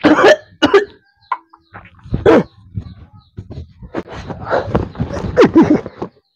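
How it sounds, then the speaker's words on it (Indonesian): A few rough, close coughs burst out, interspersed with a dog's barks and whimpers, loud and irregular. "Suara batuk lagi"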